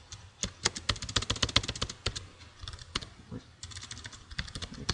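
Rapid typing on a computer keyboard while entering simple C++ code. The keystrokes are close and crisp, with irregular bursts of clicks and short pauses between them. No voice is heard.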